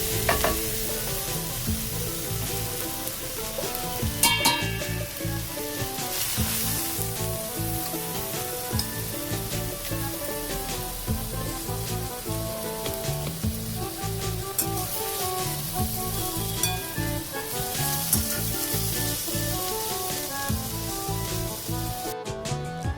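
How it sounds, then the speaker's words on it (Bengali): Potato and eggplant frying in a pan, a loud continuous sizzle and crackle of hot oil with occasional stirring scrapes, lasting throughout with no talking. "এই যে আলু আর বেগুনটা ভাজা হয়ে গেছে"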